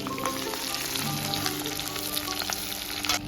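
Potatoes and chicken fry in hot oil until reddened, giving a steady, close, dense sizzle with faint crackles and light stirring throughout.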